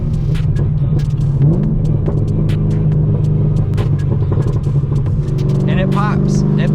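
A cammed Corvette engine rumbles with a deep, throbbing idle, rising into revs while crackling exhaust pops spike throughout. The car is heard from inside, loud and constant, and someone talks over it.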